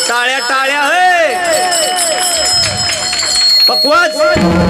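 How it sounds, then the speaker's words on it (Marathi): Rhythmic clapping from the gathering at a devotional kirtan, continuous at moderate loudness beneath a singing, chanting voice that dominates. "टाळ्या टाळ्या हे"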